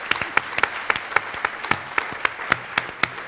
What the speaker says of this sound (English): Even Connie is clapping